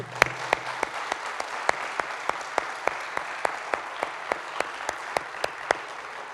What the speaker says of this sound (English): If we could just get another round of applause.